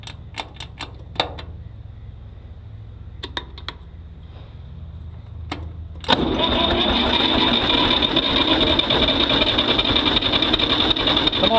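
A tractor's starter cranks in a steady, loud, continuous grind that keeps going without catching. It follows several sharp clicks and knocks on a quiet background.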